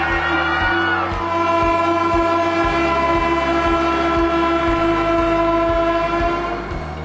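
A Vande Bharat train bound for Kashmir runs loud and close with a sustained horn blaring over the steady rumble and rhythmic clickety-clack of wheels on rail joints throughout.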